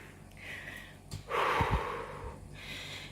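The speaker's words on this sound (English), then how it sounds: "it's so horrible just struggling to breathe and fighting for every breath" Labored, struggling breaths from a person with lung infection or hay fever and low oxygen, heard up close as a strained gasp with a snorting catch, surrounded by softer rasping breathing.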